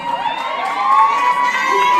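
A large audience at a pageant cheers and shouts loudly for a candidate, with high whoops and screams sustained throughout a short burst.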